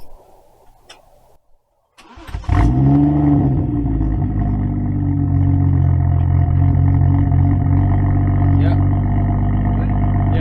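A BMW 2 Series F22 car engine cranks and fires after a brief quiet moment, then settles into a loud, steady idle that continues close to the car.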